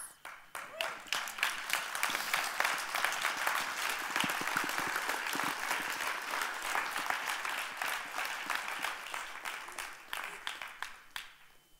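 A congregation at a Sunday church service applauds in a long, dense wave of clapping that swells, holds steady and then tapers off near the end.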